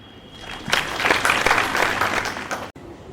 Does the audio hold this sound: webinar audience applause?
yes